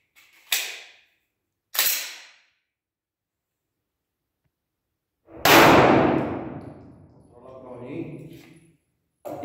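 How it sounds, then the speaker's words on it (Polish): A handgun being unloaded and checked, with the magazine released, the slide dropped and the trigger dry-fired: a few sharp metallic clacks and clicks come close and crisp, separated by silence. Then a louder rattle follows, and someone speaks over it. "wyładowanie, kontrola broni, odpinam magazynek, zrzut zamka, strzał kontrolny,"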